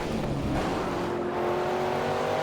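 A race car in the Project CARS racing game drifts past a Mustang, its engine roaring loud and steady with a sustained whine and rumbling low end throughout, no talking heard.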